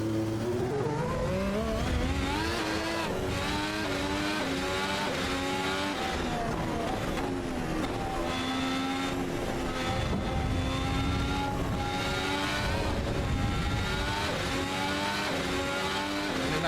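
A race car engine in the Assetto Corsa Evo racing game, loud and continuous, revving up through the gears with rising and falling pitch and shifts, alone.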